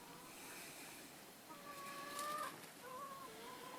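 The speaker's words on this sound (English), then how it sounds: "These are our chickens" Faint chicken calls: one drawn-out cluck followed by a shorter second call, over a quiet outdoor hiss.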